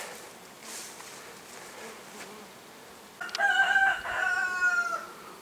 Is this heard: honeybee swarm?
yes